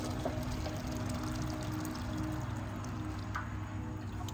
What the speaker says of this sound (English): I need to add a little bit more water because the water is covering my pints